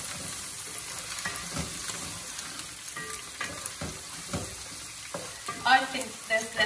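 A spatula scrapes and stirs egg bhuna curry with spices in a frying pan, irregular scraping strokes over a soft, steady sizzle of hot oil, close and clear.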